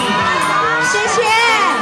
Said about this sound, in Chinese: 欢呼声，一些掌声送林峰